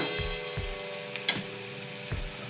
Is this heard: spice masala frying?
yes